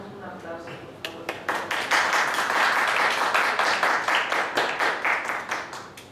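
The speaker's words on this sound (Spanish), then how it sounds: "le solicitamos un aplauso, por favor." Applause rises from a lecture audience welcoming a speaker at an academic event, starting with a voice and a few scattered claps, then swelling into loud, sustained clapping with a rhythmic pulse before easing slightly.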